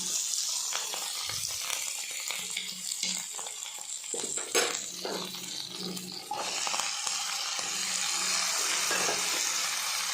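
Tomatoes fry in coconut oil for a tomato curry, a steady close sizzle broken by scraping stirs and a brief splash, with the hiss growing fuller toward the end.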